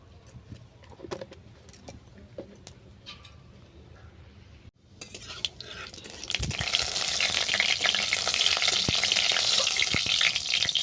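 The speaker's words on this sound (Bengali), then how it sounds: "কোমার মধ্যে দিয়েছি সর্ষে তেল দিলাম পাঁচ ফোড়ন" Small metallic clinks and light taps, then a loud steady sizzle of Bengali five-spice seeds frying in hot mustard oil in a wok that continues to the end.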